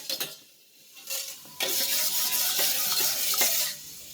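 Fenugreek seeds roasting in a pan, with a soft continuous sizzle and crackle plus intermittent scraping stirs, close and fairly quiet, no talking.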